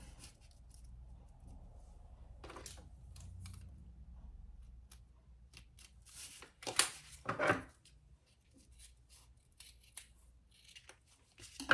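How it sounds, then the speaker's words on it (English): Faint snips and crunches of scissors cutting through a stiff zipper, a few quick cuts with quiet gaps between, close up. "I'll cut my zipper down a little bit."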